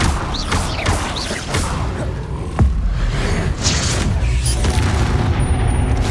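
Confringo blasting spells in the Hogwarts Legacy video game erupt as loud booming explosions with whooshes, layered over continuous busy combat noise.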